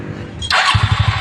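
A newly fitted engine on a Nozomi Srikandi motor tricycle cranks and fires up, catching after a brief starter whir into a loud, close, steady idle with an even thumping beat.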